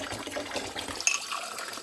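Tap water runs in a steady, close splashing gush while something is washed clean, with a brief clink partway through and no voices.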